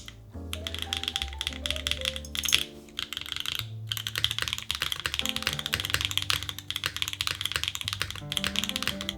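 Keys clatter in quick, uneven bursts of typing on a Float65 mechanical keyboard, fairly close, with music playing steadily underneath throughout.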